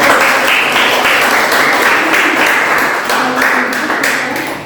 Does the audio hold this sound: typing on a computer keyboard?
no